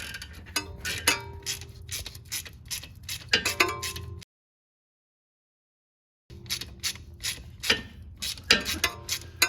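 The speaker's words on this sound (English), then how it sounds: "That is a 13 millimeter socket that he's using. He's using a swivel." A socket wrench with a 13 mm socket on a swivel ratchets a tube nut loose on a Chevrolet Silverado with the 4.3 engine, giving bursts of close clicking separated by a stretch of complete silence.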